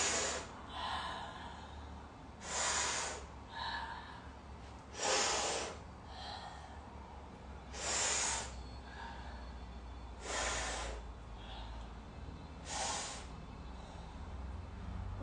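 Slow deep breaths during a fascia movement class come as about six airy, hissing inhale and exhale swells spaced a couple of seconds apart. They are close and fairly soft, with no talking.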